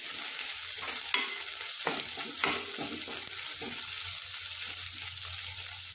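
Green chili paste roasting in a pan for spicy brinjal bharit, a steady sizzle broken by several distinct spatula scrapes as it is stirred, close and fairly quiet.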